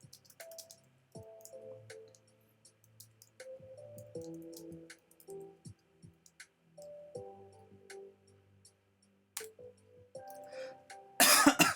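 A single harsh cough bursts out at the very end, loud and close, after a quiet stretch of soft tonal notes and small clicks.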